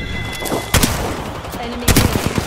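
Bursts of Apex Legends gunfire in a close-range firefight: two loud volleys about a second apart, each a rapid cluster of shots with trailing echo, over steady in-game background noise.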